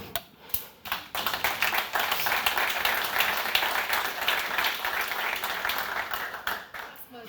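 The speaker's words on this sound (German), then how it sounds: "Applaus." Audience clapping after a startup success-story talk, a sustained even wash of applause with a few sharp claps at the start, fairly quiet and distant.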